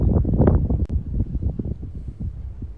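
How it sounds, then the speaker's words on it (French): Strong wind buffeting a microphone outside a villa in Dubai, with loud, low, uneven gusts and rumbling that rise and fall throughout, and a faint click partway through. "quand il y a beaucoup de vent à Dubaï."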